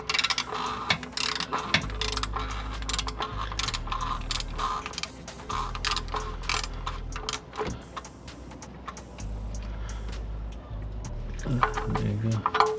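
A ratchet snugs up the oil drain plug on a Toyota Highlander, its clicking pawl ticking in quick bursts close by, with low mechanical hum and scattered knocks around it.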